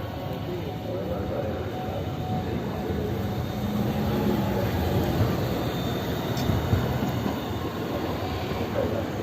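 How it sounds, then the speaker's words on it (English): Hiroshima streetcar rumbling past on an evening city street with a steady, loud rolling roar and a brief high squeal, heard among traffic and street noise. "streetcar."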